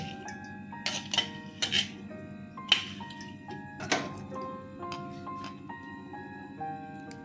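Ingredients for pumpkin kofta, with sugar and salt, are stirred together in a bowl. A spoon knocks and clinks against it in a few sparse, sharp taps over a steady, soft tonal background hum.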